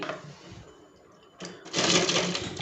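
A home sewing machine with a slightly blunted needle runs a zig-zag stitch along a saree edge, starting with a quieter whirring hum, then surging into a loud, steady mechanical buzz for the final second.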